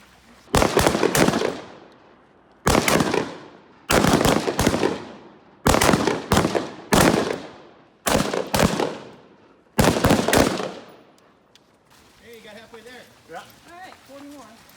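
Carbine rifle fire at an outdoor shooting range, loud and close: about eight sharp bursts of rapid shots in clusters spaced a second or two apart, each with a quick decay, then a person speaking near the end.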